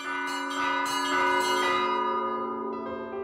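Hand- and foot-rung church bells at the Church of the Ascension in Unalaska, with two big bells under the feet and smaller bells pulled by hand, clang in a dense, ringing cluster of overlapping strikes that swell and then slowly fade.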